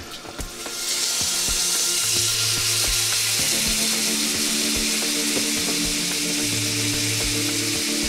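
Shrimp fry in melted butter in a pan with a steady, close sizzle that starts after a short quiet moment and carries on evenly, with soft stirring clicks and scrapes.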